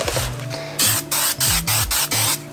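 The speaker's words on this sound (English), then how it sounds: "Prep my mat with a little bit extra spray tack." Repeated short bursts of spray adhesive hiss onto a mat in a steady rhythm, close and loud, with a faint motor-like hum running underneath.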